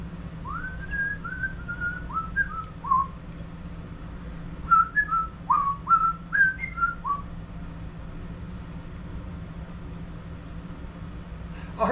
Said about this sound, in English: I heard if you whistle Christmas music, it pours faster.